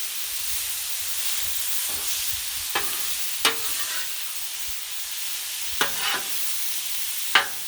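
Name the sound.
refried beans sizzling on a griddle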